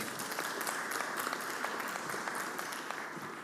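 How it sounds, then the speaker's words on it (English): A steady round of applause fills the Mississippi Senate chamber, a dense and continuous wash of many hands clapping at moderate distance. "Let's give her a round of applause."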